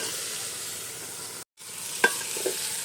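Chicken meat sizzles steadily in spice paste while being stirred for handi chicken, the hiss cutting out briefly midway before resuming with a sharp scrape or clink of the spoon and softer stirring knocks.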